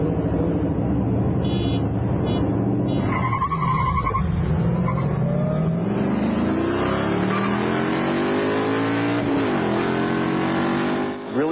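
Street-racing cars, including a Toyota Supra, speed past on a service road. Loud engine roar climbs and sweeps in pitch as they accelerate, with some tire noise and a dip near the end as they pull away.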